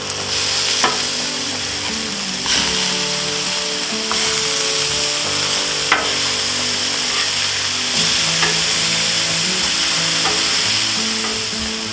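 Sausage patties sizzle loudly in a hot pan as they are flipped one by one, with a dense continuous frying hiss broken by periodic spatula scrapes and taps.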